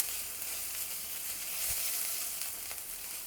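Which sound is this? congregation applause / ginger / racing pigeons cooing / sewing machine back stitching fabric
ginger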